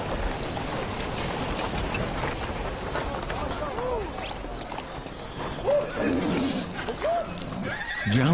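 Several horses neigh and whinny over steady rain, with scattered hoofbeats and a few voices in the background, the whinnies rising and falling at mid distance.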